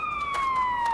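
A siren wails in The Day Before video game trailer during a zombie apocalypse, one steady, slowly falling tone, loud and continuous throughout.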